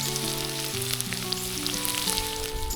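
Paneer frying in oil in a pan over a campfire while camping, a steady close sizzle and crackle that holds at an even level throughout with no talking.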